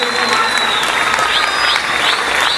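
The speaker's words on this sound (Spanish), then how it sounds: "Nosotros queremos un aplauso para esa gente" A crowd applauds at a samba comparsa show, steady loud clapping and crowd noise throughout, with shrill whistles or cheers cutting through on top.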